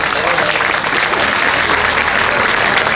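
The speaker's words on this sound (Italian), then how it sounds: "facciamo un bel applauso per tutte loro" Audience applause fills a Miss Italia regional beauty pageant in Veneto, a dense, steady clapping that runs loud and unbroken for the whole stretch with no pause.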